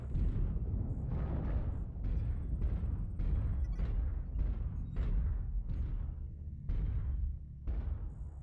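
Missile impacts in the MechWarrior Online mech combat game land as a rapid series of about ten heavy, booming explosions, roughly one every second, loud and close with no talk over them.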